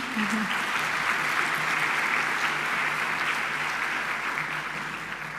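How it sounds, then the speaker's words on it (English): Applause from an audience at a Golden Key new members ceremony, a dense, steady roar of clapping that fills the whole stretch at close range, continuous and even without pauses. "can you guys just give them a round of applause as well?"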